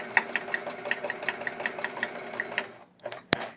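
Sewing machine running free-motion stipple quilting on a chevron quilt, a fast steady needle rhythm close by for about two and a half seconds, then stopping briefly and giving a short final burst.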